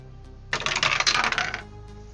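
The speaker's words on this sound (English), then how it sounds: "This dice are telling the story I wanted." Dice clatter in a single burst of rattling across a table during a tabletop roleplaying game, lasting about a second, close and crisp with no talk.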